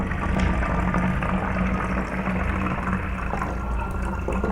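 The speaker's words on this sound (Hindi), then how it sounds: "मैं इसमें पानी भर रही हूँ" Water is poured into a plastic bottle, a continuous gurgling splash that stays steady and fairly loud from start to finish, close by, with no talking over it.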